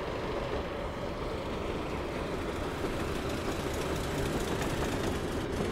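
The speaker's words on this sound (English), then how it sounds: "Oh, another train. Another fellow." A train rolls past in a railway simulator set on the Weardale and Teesdale line, a steady low rumble and rushing noise that holds evenly for several seconds with no talking.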